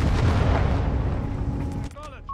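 In Company of Heroes 3, 6-pounder anti-tank guns land a quick series of hits, a dense rumbling barrage of heavy booms that thins out, then gives way to faint higher tones.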